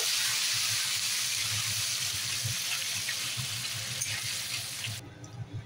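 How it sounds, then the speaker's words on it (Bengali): Mussels frying in a pan until browned make a steady sizzling hiss with low bubbling underneath, close and continuous, until it cuts off sharply near the end. "আর এদিকে ঝিনুকটাও ভালো করে লাল লাল করে ভেজে নিচ্ছি।"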